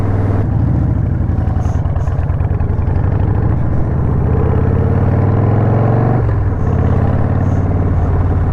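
A 2003 Harley-Davidson Sportster, a 100th Anniversary model in good running condition, idles loud and close with a steady, throbbing engine note that rises briefly as the throttle is blipped, with no voices.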